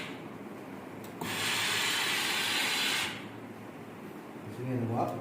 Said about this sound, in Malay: Di sini ada wap.